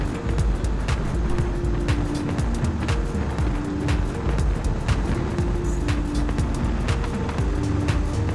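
Steady road traffic on the busy Baliya Uttarpara Road, a continuous low rumble of engines with repeated vehicles passing by close, loud throughout with no talking.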